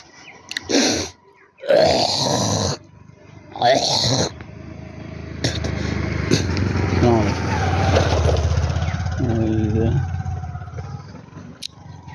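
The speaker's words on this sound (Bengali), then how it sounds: "এই যে দেখুন মোটর সাইকেল আসছে" A motorcycle approaches on a morning road through a forested area, its engine drone swelling and holding steady after a few seconds of talking.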